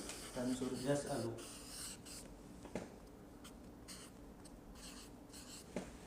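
A word written by hand during a Quran tafseer class, with faint scratchy pen or marker strokes after a man's speech at the start, then quieter intermittent scraping.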